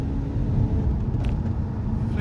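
BMW 120d M-Sport diesel hatchback pulling hard under acceleration as the turbo comes on around 1,900 rpm, a steady low engine drone and road rumble heard from inside the cabin throughout.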